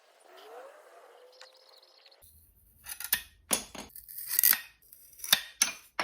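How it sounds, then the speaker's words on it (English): Thin, delicate wooden dowels are cut to size with a small cutting tool, giving a run of sharp, crisp snips and cracks, several in quick succession, close up and loud after a quieter stretch. "I used my new toy to cut these more delicate dowels down to size"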